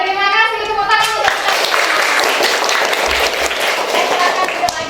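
A school class applauds at the end of a lesson: loud, close, uneven clapping from many children, with a voice heard briefly at the start.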